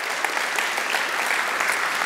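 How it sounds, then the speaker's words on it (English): A church congregation breaks into dense, steady applause, many hands clapping together at an even level throughout the short stretch. "I think that deserves a round of applause."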